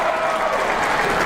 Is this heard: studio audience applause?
yes